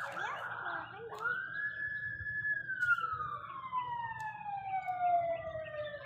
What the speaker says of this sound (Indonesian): Suara ambulan kan itu pak? Ambulan apa polisi?